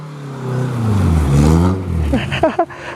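Nissan S14 engine revving hard and rising in pitch while doing donuts, loud and close, with a voice calling out near the end.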